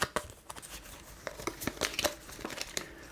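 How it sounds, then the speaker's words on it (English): A deck of playing cards given a quick shuffle at a bridge table: soft, close riffling and crinkling flutters in uneven bursts, quiet, with no talk. "Quick shuffle."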